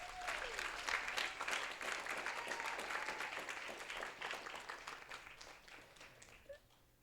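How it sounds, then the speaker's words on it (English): Audience at a green-themed talks event closing with a long round of applause, many hands clapping loudly at first and then thinning and fading out over about seven seconds, with faint background murmur. "Let's give all these awesome folks and all of you for coming out one big round of applause."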